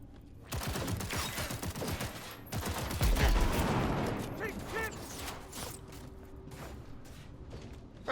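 Explosion and rapid gunfire in a shooter video game, a dense burst of crackling shots and a heavy low boom near the middle, followed by scattered mechanical clatter and smaller pops, loud and close.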